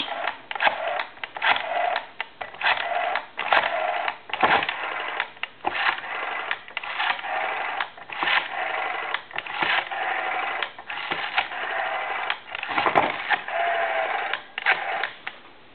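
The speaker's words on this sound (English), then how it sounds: "I'm going to try to dial the number with the cover loose" A Western Electric 302 rotary desk telephone is dialed with its cover loose, giving steady whirring and clicking of the returning dial across the whole stretch, broken by short pauses between digits.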